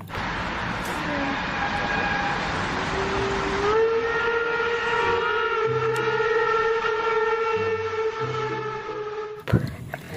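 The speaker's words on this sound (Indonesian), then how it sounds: "Lokomotif kereta api uap." A loud, sustained steam whistle blows in layered tones over a rumbling train, then cuts off with a clank near the end.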